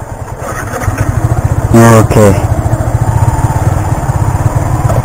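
Yamaha R15 motorcycle engine running at a steady idle, a loud continuous rumble close by, with a short rev burst in the middle and brief talk over it.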